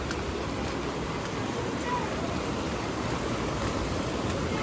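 Floodwater from heavy Konkan monsoon rain rushes through a Sindhudurg village, a steady broadband roar of flowing water that stays loud and constant throughout, with no pauses.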